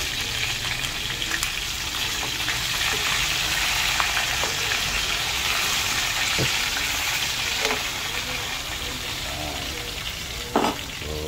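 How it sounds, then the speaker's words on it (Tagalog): Fish sizzles and crackles steadily in hot oil in a pan, frying for a tinola soup, a loud continuous hiss with scattered pops and a few clinks of a utensil, with no talking. "Ito na guys, piniprito guys."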